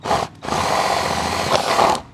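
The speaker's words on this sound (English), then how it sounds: "What we want to do is we just basically want to drill a hole in this." A power drill bores a hole into a plastic cup holder in a Toyota Prado 250, two close bursts of loud whirring, a brief stop between them, then the motor winding down.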